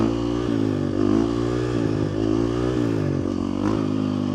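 A Husky 350 motorcycle engine runs steadily and close up with a loud, continuous harmonic drone and small rises in revs, fitted with a new Michelin rear tire.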